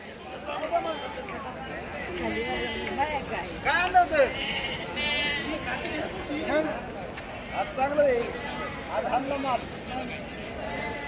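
Goats bleat repeatedly, several calls overlapping amid a crowd of people talking nearby, a busy outdoor goat market din throughout, in Shirur taluka, Pune district.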